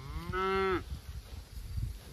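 A single cow on Green Pastures Farm gives one long, loud moo lasting under a second, then only soft outdoor pasture ambience with faint low rustling follows.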